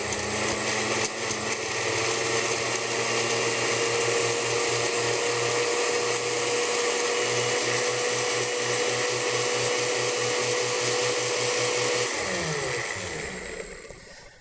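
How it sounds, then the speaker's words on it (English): A kitchen blender runs steadily, blending bananas and dates into a thick mixture, a loud continuous motor whir with a churning, rattling texture that holds for about twelve seconds before the motor winds down and stops. "just turn the blender on and let that blend for a minute"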